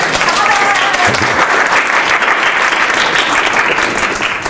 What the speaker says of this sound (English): Let's give you one more applaud of clap.